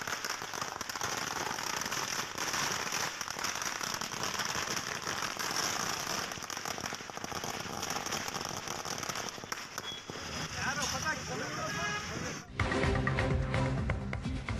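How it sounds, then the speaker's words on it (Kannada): Firecrackers burst in celebration, a dense crackling roar that continues for several seconds before ending in a sharp louder blast. "ಪಟಾಕಿ ಸಿಡಿಸಿ ವೀರೇಂದ್ರ ಪಪ್ಪಿ ಅಭಿಮಾನಿಗಳು ಸಂಭ್ರಮಿಸಿದರು"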